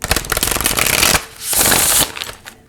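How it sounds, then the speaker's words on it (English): Oracle cards from the Oracle of the 7 Energies deck being shuffled by hand, two loud riffling bursts of crisp papery flutter separated by a short pause, close up with no talking. "Let's go one more shuffle."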